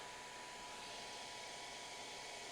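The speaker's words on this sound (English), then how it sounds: "I'm going to hit it with the hairdryer real fast" A hair dryer blows steadily on a painted miniature's base, a constant broadband whoosh at close range with no pauses and no voices.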